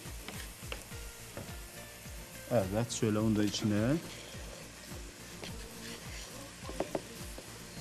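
Onions sizzle and crackle steadily while sautéing in a hot pan for pumpkin soup, as someone talks over it, stirring sounds adding occasional scrapes.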